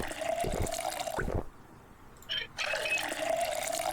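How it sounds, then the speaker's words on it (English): Water runs from a tap in Project Zomboid, a steady hiss that cuts out for about a second before flowing again. "Why is the water still running here?"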